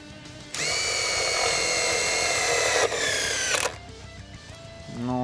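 Makita impact driver in its T1 automatic mode drives a long self-tapping screw into chipboard: a loud, steady high-pitched whirring burst of about three seconds that rises briefly near the end, then stops, leaving quiet handling noise.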